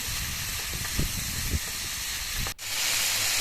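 Garlic and ginger frying in oil with star fruit make a continuous loud hiss with soft low knocks of stirring; the sound cuts out briefly near the end, then resumes.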